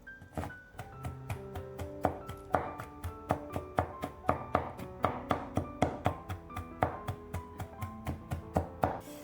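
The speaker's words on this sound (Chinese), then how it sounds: "豆角捞出来，放到案板上给它切碎一些。" Green beans being chopped on a wooden cutting board with a kitchen knife, a steady run of sharp, close knife taps and thunks striking the board at a brisk, fairly even rhythm.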